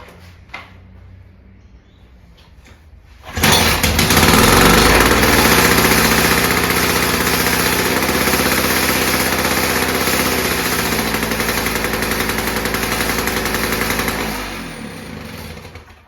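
A small petrol engine on a Victa Tilt-A-Cut lawn edge trimmer catches on the first pull from cold and roars to life, running loud and steady close by for about ten seconds before cutting off.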